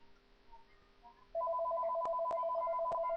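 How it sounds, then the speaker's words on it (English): A telephone rings loudly and steadily in a quiet room, a repeating electronic double-tone warble starting partway through and continuing with a few sharp clicks mixed in. "And the phone's ringing."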